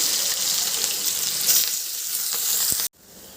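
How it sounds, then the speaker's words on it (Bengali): Loud, close sizzling of onion, potato and chilli frying in oil, a steady hiss that cuts off abruptly near the end. "এবার দিয়ে দেবো পেঁয়াজ আলু আর লঙ্কা এটাকে বেশ ভালো করে ভেজে নেবো"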